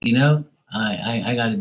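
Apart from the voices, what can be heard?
No everyday noises stand out.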